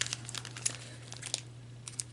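Plastic packaging around AliExpress craft supplies crinkles and crackles in close, irregular bursts while it is being opened with scissors.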